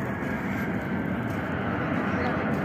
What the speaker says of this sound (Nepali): यता जति बेला नि जहाजहरु आइरहेको हुन्छ। अर्को एरोप्लेन आयो।